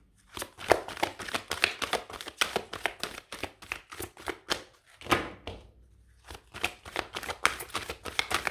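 Tarot cards are shuffled and drawn by hand, a close run of quick crisp riffles and flicks with a short pause midway before the shuffling resumes.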